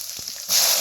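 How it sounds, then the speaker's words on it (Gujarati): Mustard seeds hit hot oil for batata poha, a sudden loud hissing sizzle that flares up halfway through the brief moment and holds steady. "ફૂલ ગરમ થઈ ગયો પછી એમાં નાખી દેવાની રાઈ"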